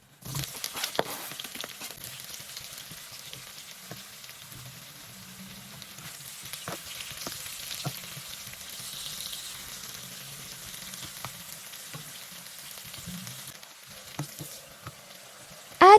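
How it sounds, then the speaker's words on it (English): Onions frying in about five tablespoons of hot oil over a medium flame for a kale chane recipe, giving a soft, steady sizzle and crackle with occasional faint clicks throughout. "Fry it up until onions get golden brown"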